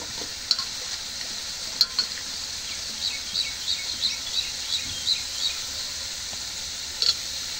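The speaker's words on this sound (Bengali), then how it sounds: "এখন মশলাটা কষানি হয়েছে, এখন পেঁপেটা দিই" Papaya goes into a spice paste with chili frying in a pan, giving a loud, continuous close sizzle with a series of bubbling pops and a few sharper crackles.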